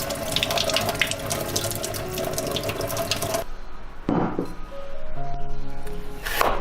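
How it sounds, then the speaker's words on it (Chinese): Tap water splashes steadily onto cleaned shrimp in a sink, then cuts off, and a few softer trickles and clatters follow close by. "用水冲干净。"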